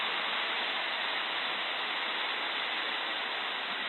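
Light aircraft engine throttled back to cruise revs of about 4,200 in flight, a steady broadband drone with hiss that holds constant and loud throughout, no talk.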